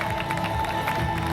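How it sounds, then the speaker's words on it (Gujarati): An audience in a church hall applauds warmly to welcome a Catholic convent sister at a parish day celebration, a dense, steady wash of clapping mixed with crowd noise and faint cheering. "સિસ્ટર વર્ષાનું સ્વાગત કરવાનું છે તાળીઓના ગડગડાટથી"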